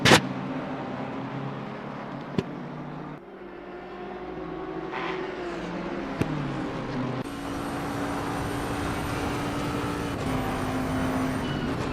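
Racing car engines in Assetto Corsa Competizione, a BMW in pursuit, drone steadily with gear-change shifts in pitch and a couple of sharp clicks, loud and continuous without voices.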